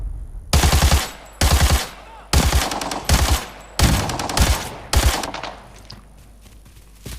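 Heavy automatic gunfire from the shooter game Arena Breakout, fired in six loud, sharp bursts with brief pauses between them, each burst a rapid rattle of shots with no talking.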